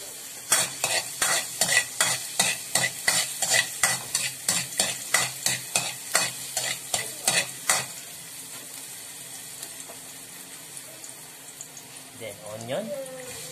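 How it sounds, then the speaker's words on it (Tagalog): Garlic sautéing in oil for a fishball sauce, a rapid regular series of loud stirring scrapes over a hissing sizzle that then settles into a quieter steady fry with a faint voice near the end. "Gigisa muna po natin sa bawang at sibuyas ang ating fishball sauce. Lagay tayo ng garlic."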